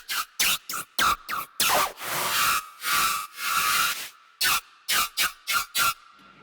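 A Serum synth lead with the reverb filter bypassed: a string of short, bright, hissy stabs alternating with longer sustained tones, loud and close, with no voices.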